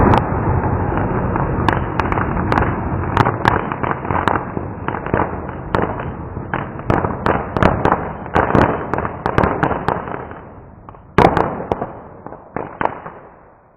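Diwali firecrackers called chitput burst in a fast, uneven string of loud sharp cracks over a continuous crackling fizz, with a brief lull near the end before a final strong bang and a few fading pops.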